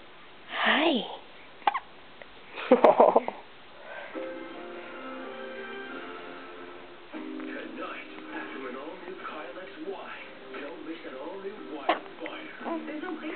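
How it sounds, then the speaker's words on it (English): A baby hiccups, two sharp, close bursts early on, followed by an adult voice talking softly nearby over faint room background. "Little baby hiccup."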